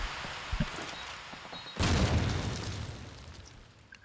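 Grenade explosions in Call of Duty 2 on the Dawnville map: a small pop early, then one loud blast that decays slowly into rumbling, with scattered distant gunfire.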